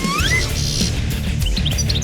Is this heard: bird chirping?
yes